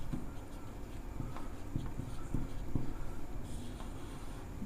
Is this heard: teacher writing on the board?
yes